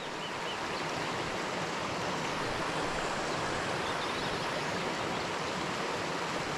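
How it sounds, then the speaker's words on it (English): A small waterfall pours down a slipway, a steady close rush of splashing water that holds even and unbroken throughout, with no voices. "So you've got a nice little bit of a waterfall coming down there through the"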